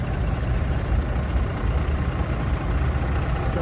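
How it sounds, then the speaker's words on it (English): Bedford lorry engine at the Bloxham Steam Rally display, a loud, steady low rumble as the vehicle drives past, heard alone. "Coming straight down now on the far side towards the point, that is the Bedford."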